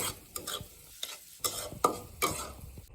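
Street-style noodles being tossed with softly fried egg in a pan, a spatula scraping and knocking in several sharp strokes over a low background of light sizzle.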